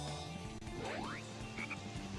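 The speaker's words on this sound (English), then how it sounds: "there's clearly frogs there" Frogs croaking in the Sonic Heroes video game, several faint croaks and a rising chirp over quiet game ambience, with no talking.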